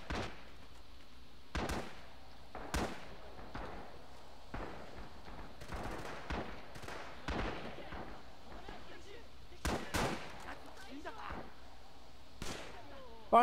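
Gunfire and artillery ring out in Red Orchestra 2, a string of separate sharp shots and thuds at irregular intervals, fairly faint and distant-sounding, with quiet game ambience in between.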